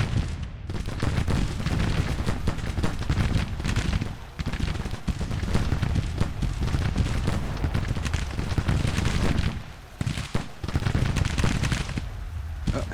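Civil War infantry volleys in Grand Tactician, dense continuous musket fire rolling on without pause across the battlefield, loud and mid-distance, with a couple of brief dips in intensity.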